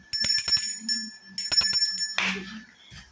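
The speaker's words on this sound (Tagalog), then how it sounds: "sorry kasi medyo hindi maganda yung bell natin ngayon" A small bell rung during a tarot reading gives several quick, bright dings in two close bursts with short ringing tails, followed by a brief rustling noise.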